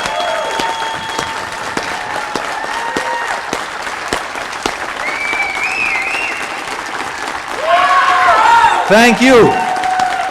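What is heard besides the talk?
audience applause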